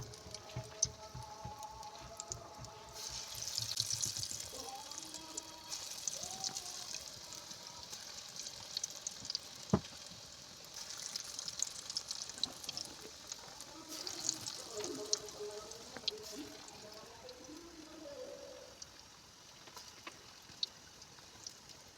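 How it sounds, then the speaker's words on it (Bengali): Chola bora fritters, small chickpea-lentil balls dropped one by one into hot oil, sizzle and crackle in a steady frying hiss that runs throughout, with occasional louder pops. "তেলও গরম হয়ে গেছে এরকম ছোট সাইজের একটা একটা করে আমি ছেড়ে দেব দিয়ে মুচমুচু করে আমি ভেজে নেবো"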